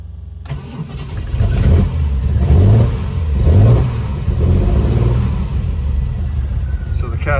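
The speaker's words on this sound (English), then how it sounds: "so the car starts up nicely." A Triumph Mk1 PI classic car engine cranks and catches, then settles into a loud, rumbling idle with a couple of brief revs, heard up close.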